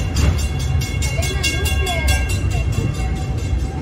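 Rumbling Walt Disney World Railroad ride heard from on board, a steady low mechanical drone with faint rhythmic clatter and metallic squeals; muffled voices murmur in the background.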